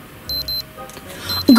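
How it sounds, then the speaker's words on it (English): Short electronic beeps from a store security alarm, a pair of quick tones followed by more beeping near the end, in a quiet room. "Why is that beeping here?"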